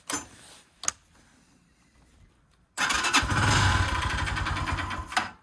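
A Lifan KP motorcycle engine with a fault that keeps it from holding idle starts loudly after a quiet stretch with a couple of knocks, runs rough for a few seconds, then stalls and cuts off.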